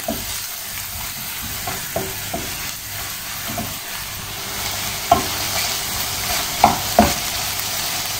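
Sliced mushrooms frying in a pan, stirred now and then with a utensil, giving a steady close sizzle broken by a few sharp scraping clacks, with no talking.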